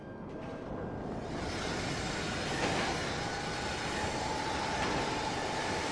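A subway train in GTA V rolls along steadily, a continuous rumbling rail roar that swells slightly, heard alone without talk.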